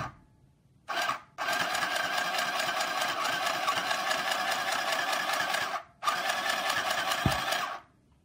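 A mini sewing machine, driven by a foot pedal, whirs in three bursts: a brief start, then a long steady run, and a final run after a short pause, all close and clear with no talking.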